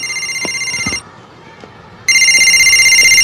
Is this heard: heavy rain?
no